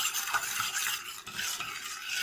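Starch, flour and sugar being stirred together in a pot for a cone dessert, a steady scraping, swishing spoon sound close up, continuous and fairly soft with no voices.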